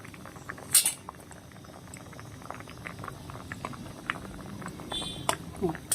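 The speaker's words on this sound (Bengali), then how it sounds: "পাঁচ সাত মিনিটের জন্য আমি সেদ্ধটা বসিয়ে দেব" Potatoes boil in a pot of water for a cucumber-and-potato vegetable curry, a low steady bubbling under a few sharp clinks of a utensil against metal or glass.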